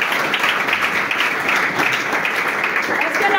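A church congregation applauds and cheers for Jesus at a deliverance service, a dense, steady wash of clapping and voices running loud and unbroken from start to finish.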